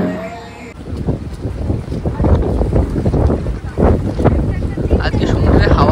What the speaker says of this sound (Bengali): আজকে সমুদ্রে হাওয়া প্রচণ্ড উত্তাল আছে